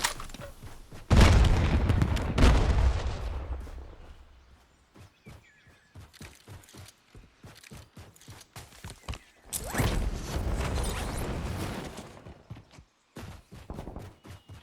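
A frag grenade detonates in Warzone as a loud, deep boom that swells and fades, followed by a burst of rapid footstep-like clatter and a second heavy rumbling blast a few seconds later.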